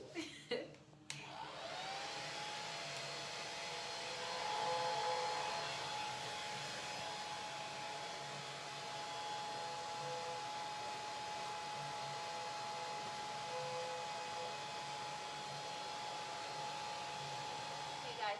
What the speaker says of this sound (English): why are you sitting in the dryer with your leave-in conditioner?